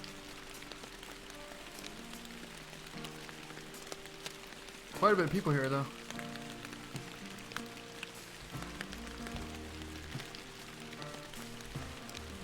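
Steady rain falls in the Fishing Planet fishing game, a constant soft patter running through the whole stretch, with a brief louder burst of another game sound midway and a voice talking over it.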